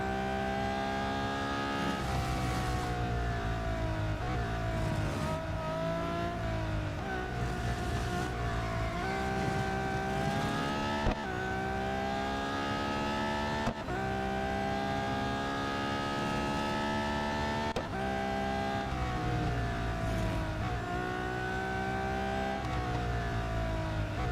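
Race car engines in the mobile racing game Real Racing 3 roar continuously, with repeated rising revs through gear shifts and brief drops under braking, loud and steady for the whole stretch with no talking.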